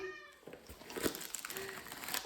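A house cat meows close by, short wavering cries amid rustling and crinkling of packaging, with a person's voice faintly in the background.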